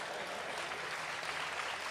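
A comedy mushaira crowd claps in a continuous, even wash of applause, moderately loud and unbroken throughout.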